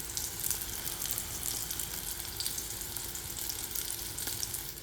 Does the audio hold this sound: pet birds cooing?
no